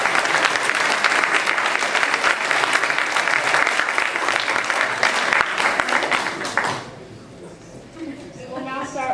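Dense, sustained audience applause at a school committee forum, loud and steady for several seconds before cutting off, followed by a voice beginning to speak.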